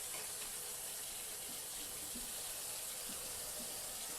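Water runs steadily from a faucet, filling a sink to check the drain for leaks, a soft continuous hiss and splash at moderate distance, no talk.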